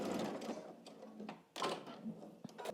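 A home sewing machine stitching and back stitching a garment seam, a quick mechanical whir with brief pauses and a sharp restart partway through, close and fairly quiet.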